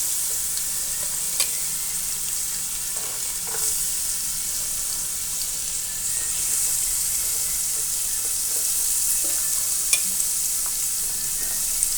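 Chopped ridge gourd frying in a hot pan as it is stirred, a dense continuous sizzle and hiss with occasional faint spatula scrapes, close and steady throughout.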